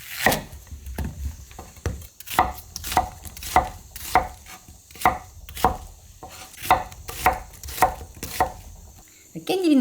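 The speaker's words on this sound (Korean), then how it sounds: "대파를 이렇게 썰어주세요" Knife slicing green onion (daepa) on a cutting board for a spicy pork rib stew, with about fifteen crisp, evenly spaced chops ringing out close and loud, no talking.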